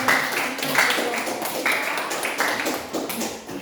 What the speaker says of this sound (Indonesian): kita tepuk tangan untuk kelompok 2